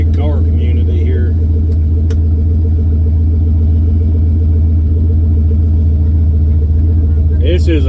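An LS-swapped Studebaker car engine idles with a steady low rumble close by, while people talk briefly over it at the start and end.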